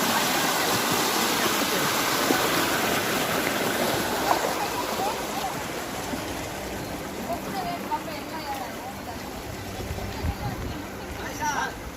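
Rainwater from farmland at Balenahalli rushes across a road and into houses, a constant broad gushing roar of flowing water that fills the scene, with people talking faintly underneath.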